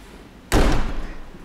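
Sliding door of a Peugeot van slams shut once with a heavy, close metallic thud, followed by a brief rattling rumble as it settles.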